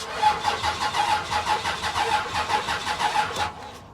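A 6.7 engine cranks on a booster pack with a rapid, rhythmic chugging of the starter, repeating evenly for several seconds before it catches and fades.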